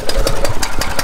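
A small engine, started with one pull of the cord on full choke, idles with a loud, rapid, even chugging pulse, close by and alone.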